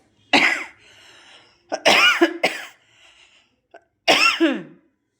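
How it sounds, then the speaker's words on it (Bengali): A person coughing repeatedly while cooking, several harsh close bursts in quick clusters separated by short quiet gaps. "কাশি উঠে গেছে আমার"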